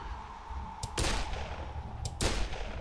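Two sharp gunshots in the video game Dead Island, about a second apart, each with a booming tail, over a steady background hum.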